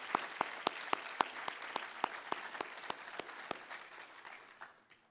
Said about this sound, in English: we could break that tension by giving some applause to our Penning graduates